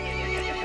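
An animated horse gives a short, loud, close neigh, heard on its own.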